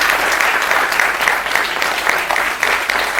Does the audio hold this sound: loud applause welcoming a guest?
yes